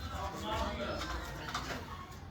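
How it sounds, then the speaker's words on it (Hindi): A kagzi pigeon coos softly in a pigeon loft, its low murmuring call faint beneath steady nearby talk. "कागजी कबूतर है माशाल्लाह।"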